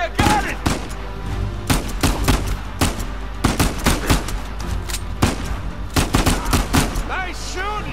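Repeated bursts of gunfire from the video game Uncharted 4, played on Crushing difficulty: sharp shots fire in irregular clusters across the whole stretch over a constant loud rumble, with game voices cutting in briefly between volleys.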